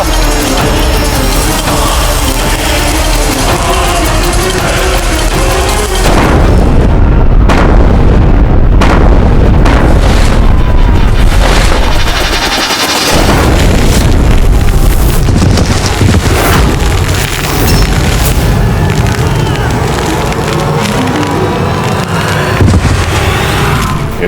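Cannons fire and shells explode in a staged battle between Rajput and Mughal forces in a Maharana Pratap TV drama, giving repeated loud booms and blasts over continuous roaring battlefield noise.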